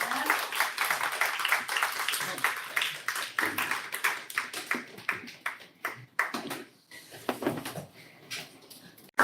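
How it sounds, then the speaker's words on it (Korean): Sparse, uneven clapping from a small audience welcoming a lecturer to a special talk, individual claps distinct and close, thinning toward the end. "큰 박수로 환영해 주시겠습니다."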